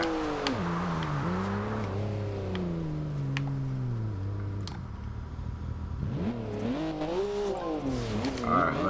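A 2014 BMW M4 engine in the racing game Forza Horizon 2, revving up and down through gear changes with rising and falling pitch, loud and close, with someone talking over it.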